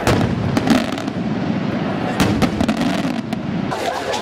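Locally made fireworks burst overhead in huge numbers at a village festa in Tarxien, Malta, fired from fields outside the village: a loud, dense, continuous crackle of rapid pops and bangs with no pauses.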